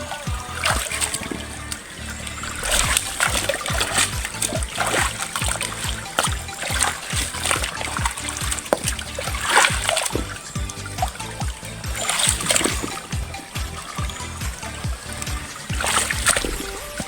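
Water splashes continuously as someone wades through shallow water while eel hunting in Sugod, Lopez, Quezon, with close, churning splashes and trickles throughout.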